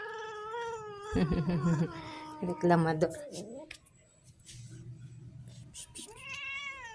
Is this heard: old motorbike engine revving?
no